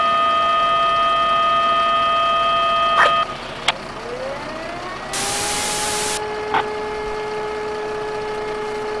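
A siren sounds the alarm for a fire brigade unit in Wegberg in the Emergency 4 game, with steady tones giving way to a rising, sweeping wail and a few sharp clicks, with no talk.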